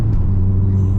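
Steady low engine drone from a manual VW Golf GTI being prepared for Stage 3 tuning, loud and continuous with a strong low hum and no talking.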